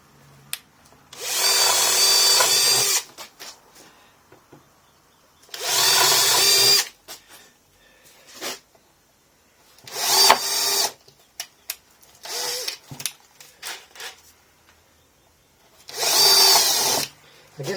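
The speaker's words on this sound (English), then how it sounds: "I guess the drill bit isn't all that sharp." A power drill with a blunt drill bit whines in several bursts of one to two seconds each, drilling holes for screws, separated by pauses with small clicks and handling noises.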